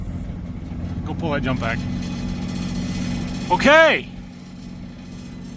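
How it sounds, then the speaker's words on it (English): A vehicle engine hums steadily at idle throughout, while people talk briefly over it near the start and again near the middle. "I pushed the engine button. Let's see if it starts."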